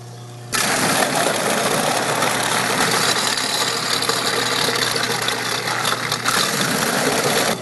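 A 3/4 horsepower in-sink garbage disposal grinding a box of apples, a loud continuous whirring grind that starts abruptly and holds steady throughout.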